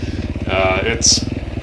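Dirt bike engine puttering at low speed through a slow, slick, wet section of an enduro race, a steady mid-level hum with a brief louder rise, heard alongside a voice talking.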